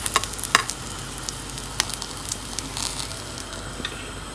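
Thin burger patty sizzling in a hot pan, a steady crackling fry with sharp pops and spatters, loudest early and then settling into a continuous close hiss.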